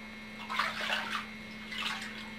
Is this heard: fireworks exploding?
no